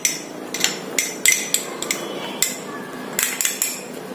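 A spoon stirs curd and lemon juice into a paste in a bowl, producing sharp, irregular metallic clinks and taps against the bowl, close and clear without speech.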